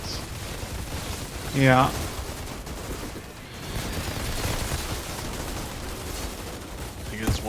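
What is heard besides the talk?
gunfire from the video game Outriders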